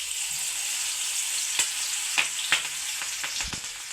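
Cumin, garlic and green chillies hiss steadily in hot oil in a pan while a home cook prepares stuffed kantola, with occasional sharp pops and clinks of a spoon stirring.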